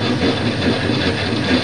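An 18 mm drill bit chattering through a workpiece, a loud, steady rough grinding roar close by with a slight rhythmic rattle throughout.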